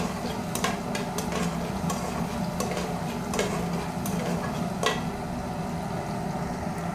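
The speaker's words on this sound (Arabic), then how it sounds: "قلبت البصل شوية" Onions stirred in a pan on a kerosene stove, scattered light scraping clicks of a utensil against the pan over a continuous sizzling, burner-like roar.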